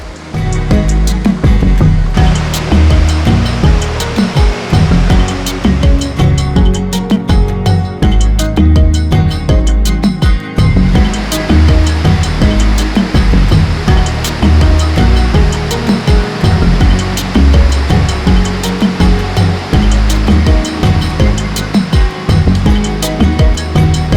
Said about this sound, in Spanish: La primera cascada que nos encontramos es la de Arripas